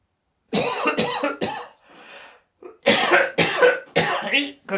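A person coughs repeatedly in close, harsh bursts, three quick coughs, a raspy breath, then four more heavy coughs.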